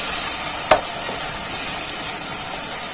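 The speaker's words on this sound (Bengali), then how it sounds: "এবার একটু নাড়াচাড়া করবো" Banana blossom being stirred with spices in a frying pan, a steady soft sizzle running throughout with one sharp spoon scrape or clink near the start.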